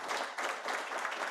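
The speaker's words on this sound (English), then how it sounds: "I want to give them a round of applause" Brief, dense burst of audience applause for chief officers, directors and staff at a public sector building energy efficiency programme event, steady and fairly loud throughout.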